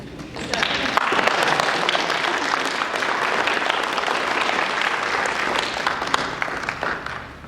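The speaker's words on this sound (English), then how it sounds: "And we are allowed to clap for them." A crowd applauding steadily at a college honor society induction ceremony, dense clapping that holds at an even level for several seconds before easing slightly.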